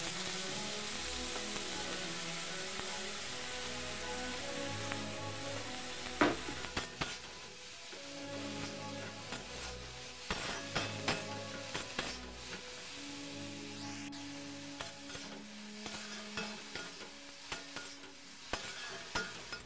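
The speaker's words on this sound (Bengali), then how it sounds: "কড়াইতে তেল দিয়ে এবার বেগুনগুলো একটু ভেজে নেব।" Eggplant pieces fry in hot oil in a wok, with a steady close sizzle and repeated scraping, clanking stirs of a spatula against the pan throughout, no voices.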